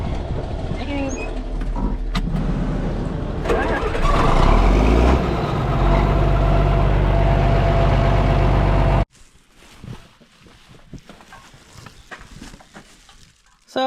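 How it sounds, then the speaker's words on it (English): A 4995 hay-cutting tractor engine roars with a deep, loud, steady rumble that builds after a few seconds, holds for about five seconds, then drops abruptly to quieter, scattered noise. "let's fire the tractor up and get to her."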